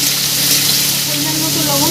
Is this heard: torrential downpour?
no